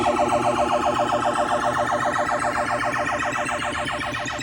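Electronic siren-like warbling tones from a Williams Firepower pinball machine's sound board under test, rapid repeating pulses, loud and continuous with no talking.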